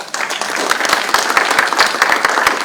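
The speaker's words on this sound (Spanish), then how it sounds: "Un aplauso para Natalia." An audience at a university ethics chair launch applauds a speaker named Natalia: loud, dense clapping from many hands, steady and close throughout.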